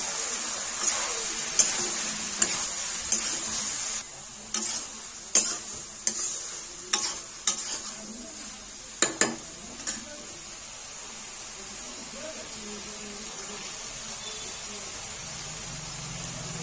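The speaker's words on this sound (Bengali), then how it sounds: "এবারে ভেজে রাখা সয়াবিনগুলো দিয়ে দেবো।" Fried soya chunks are stirred into a pan of potato curry, a spoon scraping and tapping against the pan in regular strokes over a low background hiss, close and without talk.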